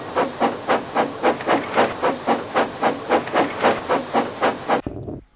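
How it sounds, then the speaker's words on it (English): Steam locomotive engines, Flying Scotsman and Edward, arriving with a steady rhythmic chuffing and hissing steam, a dozen or so regular beats close by and loud, cutting off abruptly near the end. "Here they come now. Everybody meet Flying Scotsman and Edward"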